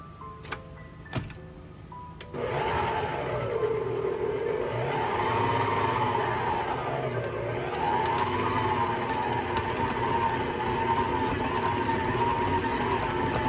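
A stand mixer with a paddle attachment runs on medium after a few clicks, settling into a steady whirring motor drone whose pitch wavers slightly as it works the bread dough, close and continuous.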